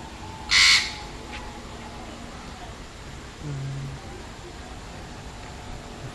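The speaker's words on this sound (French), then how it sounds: "Il y a des perroquets verts, il y a des perroquets rouges." Parrots at the Singapore zoo give one brief, loud squawk near the start. Faint background ambience follows, with a soft low call later on.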